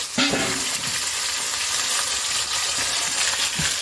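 Chicken afritada sizzles in a pan at an outdoor countryside cookout, with a steady frying hiss broken by several sharp scrapes and clinks as it is stirred.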